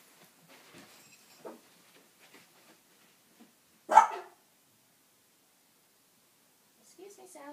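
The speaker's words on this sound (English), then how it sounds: "Those are my dogs barking, Jack and Sally." A pair of household dogs gives a single loud, brief bark in an indoor room, with fainter scattered noises before it and a short trailing sound near the end.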